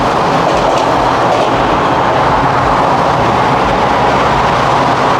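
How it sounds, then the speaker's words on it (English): Train rolling past outside a downtown Toronto condo on Lakeshore, a loud, steady rumble with rhythmic rail clatter filling the whole stretch. "you can really hear the noise of the train"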